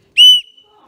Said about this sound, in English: I got a sweet new whistle, which I can, blow.